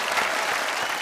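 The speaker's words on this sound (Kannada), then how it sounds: "ಸಚಿನ್ಗೆ ಜೋರಾಗಿ ಚಪ್ಪಾಳೆ." A studio audience at a TV game show breaks into loud, steady applause for a contestant, a dense continuous wash of clapping with no gaps throughout.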